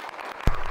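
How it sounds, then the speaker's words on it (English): A short, sharp burst of applause breaks out near the end against a steady background of noise, lasting only a moment. "Clap it up."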